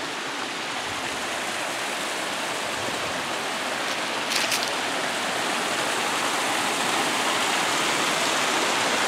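Water falls continuously at a waterfall, a loud, steady broadband rush heard up close without a break, and no voices are heard.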